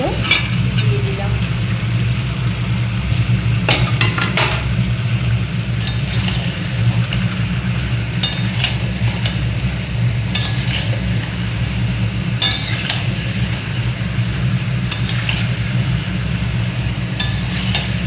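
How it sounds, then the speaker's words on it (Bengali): Chicken curry with fried potatoes is stirred in a sizzling pan: a steady frying hiss runs throughout while a utensil scrapes and clinks against the pan at irregular intervals, close and fairly loud. "এটাকে ভালো করে নাড়তে হবে।"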